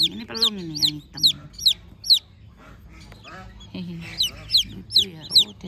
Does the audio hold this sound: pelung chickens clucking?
yes